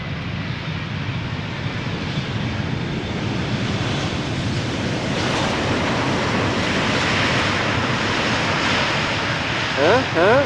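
Airliner landing on Schiphol's Polderbaan runway on a sunny day, a steady broad engine roar and rushing air filling the whole stretch at a constant level, with a brief chirp near the end.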